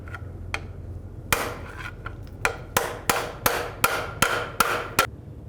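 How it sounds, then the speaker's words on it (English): Hammer strikes on a pry bar to drive out a seized starter on a 2003-09 Toyota 4Runner: a couple of isolated hits, then a quick run of sharp, evenly spaced metallic blows, fairly close. "I'm gonna use a pry bar and a hammer. Just try to pry it out"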